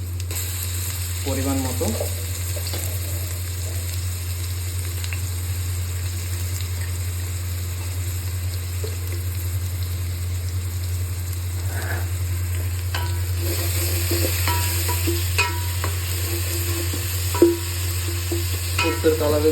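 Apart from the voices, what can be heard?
ginger garlic paste frying in mustard oil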